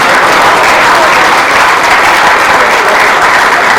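A steady, loud burst of crowd applause at a Cameroonian community gala in Montréal, thick and unbroken, with no other sound standing out.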